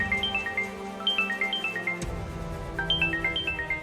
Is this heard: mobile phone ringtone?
yes